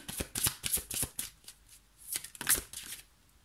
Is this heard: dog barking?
no